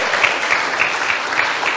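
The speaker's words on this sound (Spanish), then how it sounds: "dele palmas fuertes al Señor" A church congregation claps hands loudly and steadily, many overlapping claps forming a dense, rhythmic roar that fills the room.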